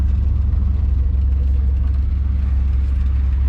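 A cheap 4x4 truck engine runs loud and close in a steady, deep idling rumble with a slight pulsing throb and no talk over it.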